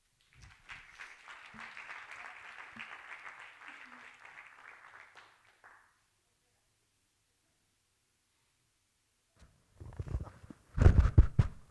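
Audience applause at a university talk on climate change and agriculture, a steady clapping crowd for about six seconds that fades out, followed by silence and then brief handling noises and a voice.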